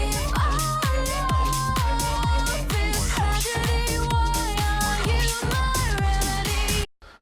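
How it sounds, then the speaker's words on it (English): A clashing mashup of an a cappella vocal over a track without key sync, played loud and continuous on a Pioneer DDJ-800 two-channel DJ controller, with a steady beat and out-of-key melodic lines throughout before stopping abruptly near the end. "when you put them together without any key syncing, it's going to sound like this"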